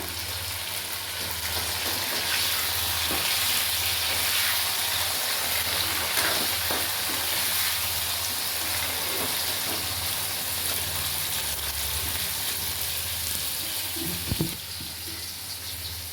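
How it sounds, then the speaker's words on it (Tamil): Tomato and vegetables sizzle and crackle steadily in a pan at close range, with a few soft stirring clinks near the end. "ஒரு ரெண்டு நிமிஷம் நல்லா வதங்கட்டும்"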